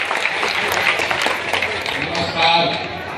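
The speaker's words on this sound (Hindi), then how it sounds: "आदरणीय प्रशांत किशोर जी के लिए एक बार जोरदार ताली बजाइए" A large outdoor crowd at a Madhepura College ground rally claps loudly and continuously for Prashant Kishor, a dense, steady wash of applause with voices mixed in throughout.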